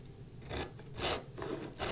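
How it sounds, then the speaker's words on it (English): Hand crosscut saw cutting through wood for a corner bridle joint, a freshly sharpened blade giving several rasping strokes, fairly close and moderately quiet, with no talking. "bring in the crosscut saw, and I'm going to do the exact same thing I just did before"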